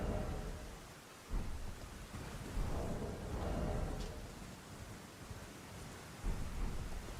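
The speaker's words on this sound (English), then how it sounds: "Is it like different types of rain?" Steady rain and rolling thunderstorm weather in the video game Elden Ring, a continuous wash of rainfall with low rumbling thunder swelling and fading throughout, with no talking.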